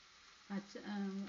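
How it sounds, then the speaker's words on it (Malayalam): Onion, green chili, garlic and ginger sauté for a clam fry, giving a brief, faint sizzle in the pan under a short spoken phrase. "എല്ലാം കൂടെ ഇട്ട് വരട്ടണം"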